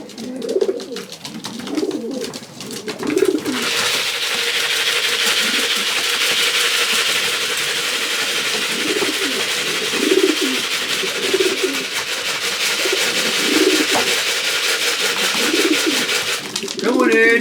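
Young pigeons coo repeatedly in a loft, soft rhythmic calls layered over a steady broadband hiss, with a few brief clicks and rustles as the birds settle in.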